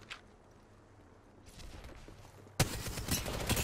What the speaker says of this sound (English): Shots fired at me. Getting shot at.